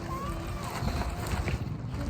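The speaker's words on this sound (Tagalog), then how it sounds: "Kasi mahangin naman kahit maaraw. Ang hangin! Nililipad-pad na!" Strong wind gusting by Lake Mapanuepe in Zambales, a broad rushing buffet against the microphone with some possible water movement underneath, steady and close.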